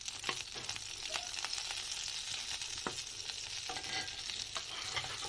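Butter and a little oil sizzle steadily in a pan for a sandwich, a continuous bright frying hiss with occasional sharper pops and crackles, close and fairly quiet, with no talking.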